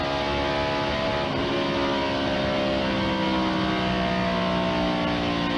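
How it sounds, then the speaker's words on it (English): A loud, sustained NASCAR engine roar on the back straightaway drones on without pause, steady and powerful like a race car at speed. "listen to that motor go down the back straightaway"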